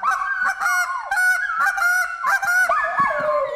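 A goose call for specklebelly or snow geese is blown in a rapid series of loud, close, sharp honks and clucks with a rhythmic cadence that breaks into higher yelps near the end.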